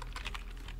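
Computer keyboard typing, a quick run of about six close, crisp keystrokes in uneven rhythm with no talk.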